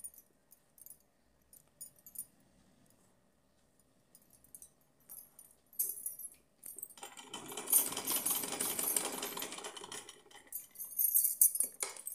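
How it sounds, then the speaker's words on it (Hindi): A sewing machine stitching a small fancy doll dress for a Laddu Gopal idol: scattered clicks and handling at first, then a sustained buzzing run of stitching in the second half, close and fairly loud. "इस तरह से यहाँ से हम फोल्ड करेंगे और इसको सिलना शुरू करेंगे"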